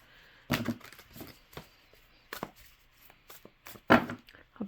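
Oversized tarot cards are shuffled up close, producing irregular bursts of papery slapping and riffling separated by short quiet gaps.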